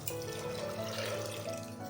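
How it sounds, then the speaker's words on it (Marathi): Water pours in a steady stream into a metal pressure cooker, with a ringing, rising tone as it fills, close and fairly quiet. "आणि एक तांब्यावर पाणी टाकून देते"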